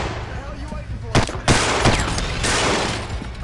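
Sharp, loud shotgun blasts in the SWAT 4 game, several shots fired in close succession with a roaring burst of gunfire near the end, mixed with shouting voices.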